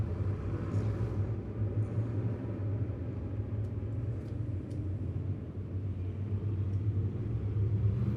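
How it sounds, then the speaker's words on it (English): Modified race cars roll toward the green flag for a 15-lap feature at Lebanon Midway Speedway, a steady heavy engine rumble at a distance that holds throughout with no clear spikes. "Out at turn 4, green flag going to be in the air with modifieds at Midway"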